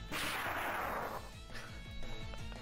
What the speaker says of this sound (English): There's a tremendous crashing explosion sound, and your head rings as a huge wave of energy blasts past you